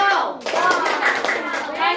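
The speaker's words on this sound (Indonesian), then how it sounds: "Kita beri tepuk wow." A primary school class in Lawang Kidul claps the rhythmic 'tepuk wow' cheer, loud close handclaps in quick patterned bursts mixed with children's voices chanting along.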